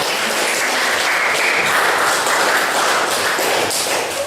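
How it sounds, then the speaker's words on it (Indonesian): Steady, dense applause from a classroom audience for a student group after their presentation, filling the whole stretch at an even level with no voices. "berikan tepuk kembali untuk kelompok 4"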